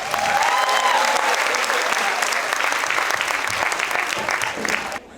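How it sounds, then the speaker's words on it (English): Loud, dense applause from parents and guests at a playschool annual day in Kandivali fills the hall steadily, with some cheering mixed in, before dropping away abruptly at the end. "Let's give them a round of applause."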